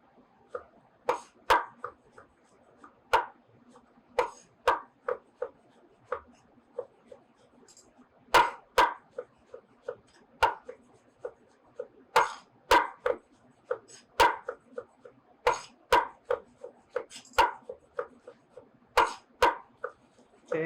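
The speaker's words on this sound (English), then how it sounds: "we're basically going to finish chopping our vegetables" Button mushrooms and other vegetables for a winter casserole are chopped with a knife on a cutting board: sharp, close knocks in uneven bursts and runs, repeated steadily with no talking.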